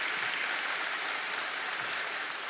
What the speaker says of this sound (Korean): 환영합니다. 박수하겠습니다.